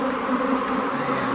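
Honey bees swarm over a frame lifted from a nuc hive, a dense, steady buzzing hum filling the brief moment without a break, close and loud, with no voices.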